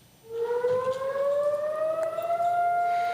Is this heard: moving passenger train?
no